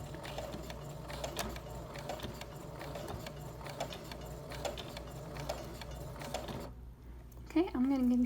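A sewing machine stitching the top seam of a fabric drawstring bag, a quiet, busy mechanical whirring with rapid ticking, close up, stopping near the end as a voice begins speaking.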